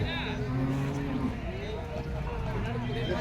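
Cattle at the Erode Karungalpalayam cow market, a busy livestock market setting with continuous crowd noise and talk, and cattle moos rising from the dense background.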